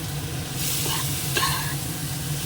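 Spice paste for a fish curry sautéing and being stirred in a pan, a steady close sizzle with a couple of brief scraping strokes and no voices.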